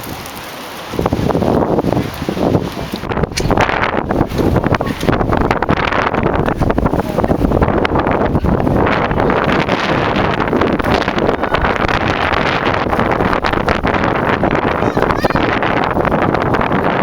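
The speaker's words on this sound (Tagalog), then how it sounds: "windy." Strong, gusty wind roars continuously across the microphone on a blustery day in San Jose, California, loud and buffeting throughout after a brief quieter opening.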